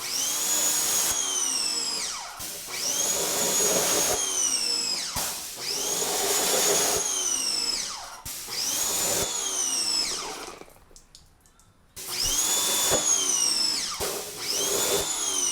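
Degreaser sprayed up under a Mercedes-Benz SLK32 AMG being prepared for drag racing, heard as a series of loud, close bursts of high motorized whine with short pauses between them, one longer quiet gap near the end.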